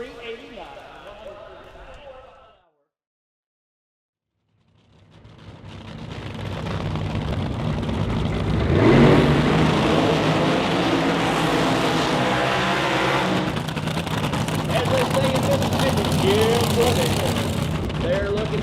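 Supercharged nitro and methanol drag racing cars, American aluminum engines, roar loud and sustained across the strip after a brief silence, with a commentator talking at the start.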